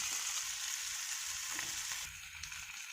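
Fish pieces shallow fry in oil in a wide pan, a soft steady sizzle that is faint and even throughout, with a slight change in texture partway.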